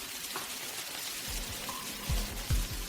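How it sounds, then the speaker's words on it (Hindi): Heavy rain pouring down, a dense steady hiss of drops with a few low thumps and knocks underneath, fairly loud and continuous with no one speaking. "इतनी जोर से बारिश हो रही है"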